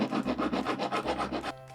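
A rear axle housing from a WPL RC car being filed and shaved down by hand, a close, steady rasping rhythm of about a dozen quick strokes that stops near the end.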